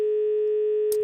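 A steady telephone busy tone hums on a radio call-in line, one unbroken pitch lasting about a second before a brief click cuts in at the end.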